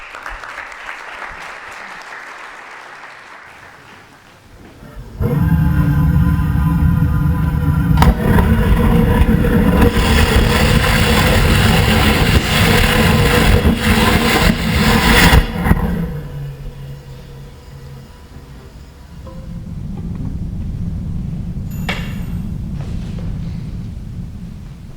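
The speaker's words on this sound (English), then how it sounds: "you just saw a test of our rocket engine" A loud, sustained roar of a rocket engine test firing for about ten seconds, broadband and steady, then cutting off, followed by a lower rumbling tail.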